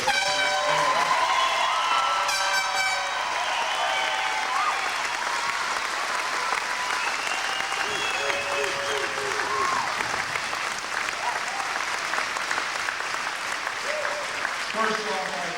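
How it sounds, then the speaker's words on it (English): At a 1997 state championship high school varsity football celebration, a crowd applauds its head coach in sustained, even clapping, with cheering voices and whistles mixed in over the steady wash. "let's give a big round of applause for our head coach"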